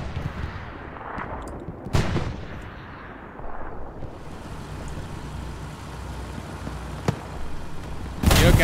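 Artillery fire in the WWII shooter Hell Let Loose, heard as deep booms and sharp cracks over a rumbling battlefield background, with one loud blast near the start and another heavy one at the end.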